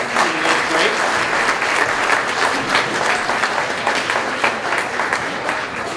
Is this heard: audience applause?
yes